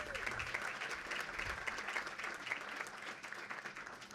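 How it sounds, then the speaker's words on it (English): A crowd gives sustained applause to introduced city council members, an even, continuous wash of many hands clapping from a distance at low level with no speech over it. "Let's give them a round of applause."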